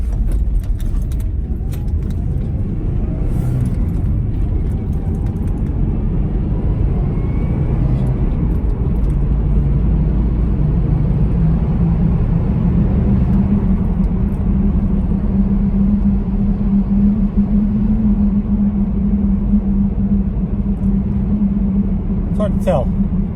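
A Subaru engine runs steadily from inside the car while driving after a coil pack replacement, a continuous low rumble under road noise, with faint rattling and a voice talking briefly near the start.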